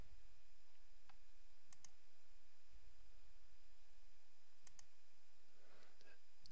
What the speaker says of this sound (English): Click the view results.